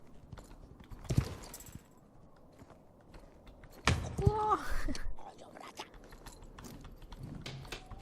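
Hooves of a horse pulling a sleigh in a winter-village race in Star Stable Online clop in bursts, with game effects and someone talking over them.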